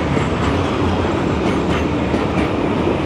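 A Russian children's railway train rolls past at close range, a steady loud rumble of wheels on track with faint clacking throughout, no voices over it.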